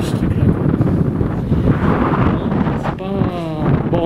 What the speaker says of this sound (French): il y a beaucoup de vent par contre